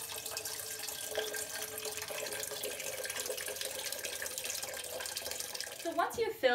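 Tap water runs steadily into a large enema can, a continuous splashing rush that ends with a brief clatter.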